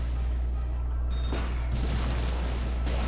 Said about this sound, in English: That lightning spell.